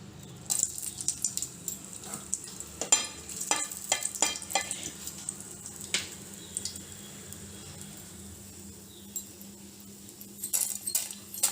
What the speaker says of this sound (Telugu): ఆయిల్ వేడెక్కిందండి. ఇప్పుడు తాలింపు గింజలు వేసుకుందాం.